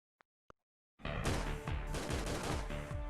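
Gunfire in the Tomb Raider game on a Paris rooftop: two short isolated clicks, then a loud sustained burst of rapid automatic shots rattling continuously and close to the end.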